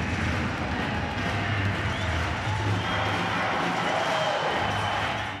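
Hockey arena crowd at a Lokomotiv home game against HC Sochi cheers and applauds a young fan's energetic dance, a dense, steady roar of clapping and shouting from the stands that stays loud throughout.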